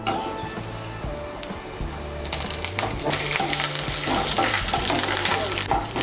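Curry leaves hit hot oil in a pan with a dried red chilli already in it, bursting into a loud, steady crackling sizzle that grows busier and denser over several seconds, with no talk.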